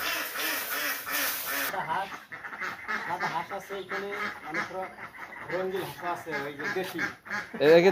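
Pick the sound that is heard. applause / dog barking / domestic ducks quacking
domestic ducks quacking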